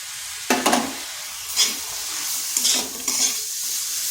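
Ground green chilli, cumin and ginger fry with boiled chickpeas in a pan, making a continuous sizzle with several distinct stirring scrapes of a spoon against the pan.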